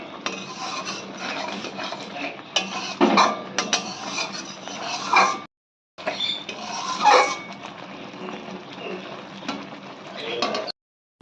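Coconut prawn curry being stirred in a pan, with repeated scraping and clinking of a spoon against metal in steady, close bursts and a short pause midway.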